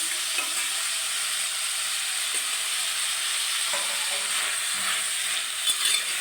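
Bitter gourd sautéing in hot oil in a pan, giving a steady, even sizzle with faint stirring scrapes, close and alone with no voices.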